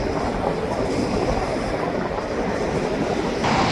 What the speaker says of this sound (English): 2 bulkhead car and 2 center beam make up the train.